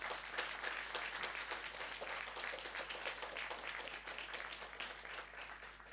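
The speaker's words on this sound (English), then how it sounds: "Let's give him a big round of applause." An audience greets a guest speaker, Dr. Radhakrishnan Pillai, with sustained, even applause at moderate distance over a low steady hum, with no voices.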